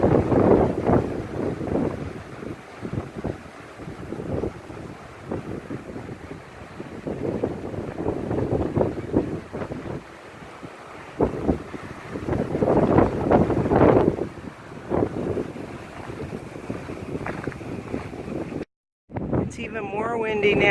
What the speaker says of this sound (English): The wind is really blowing in the trees.